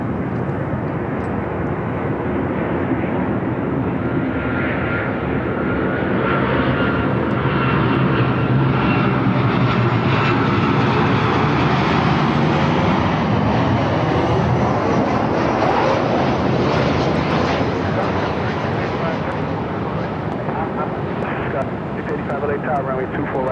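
A Southwest Airlines jet roars past at Los Angeles LAX airport, a loud sustained engine rumble that swells and slowly fades across the whole stretch, with voices faintly underneath.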